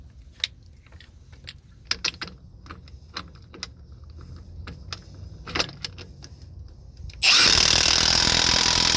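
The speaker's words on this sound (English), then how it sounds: "then you can start using your impact" Metallic clinks and taps from tools and parts on a Freightliner Cascadia truck axle give way to a loud, sustained impact wrench burst as it tightens the pinion yoke nut, close up.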